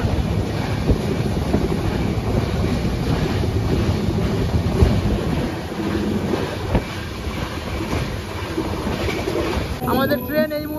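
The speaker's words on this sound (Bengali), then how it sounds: "ফুল স্পিড মোড়ে আছে দুরন্ত এখন।" The Howrah–SMVD Duronto Express runs at full speed, a constant rushing rumble and rail roar heard from inside the coach, with wind buffeting and a voice speaking over the noise near the end.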